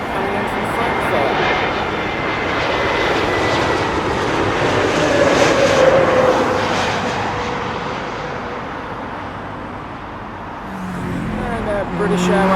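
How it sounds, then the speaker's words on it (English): Lufthansa Airbus A320neo on approach to London Heathrow from Frankfurt, a steady moderately loud jet engine rumble and whine that builds slightly and then eases off, with some traffic-like background noise and no talk. "Lufthansa A320neo coming in from Frankfurt."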